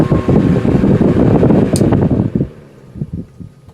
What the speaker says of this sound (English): and we'll crank it back to high.